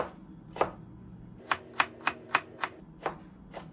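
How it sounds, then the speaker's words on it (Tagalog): A knife chops onions into small slices on a cutting board for pork sisig, giving a run of crisp, evenly spaced thuds, two early strokes then a quick series of about six close, fairly loud chops. "So, dapat maliliit lang yung slice nyo ng sibuyas, no?"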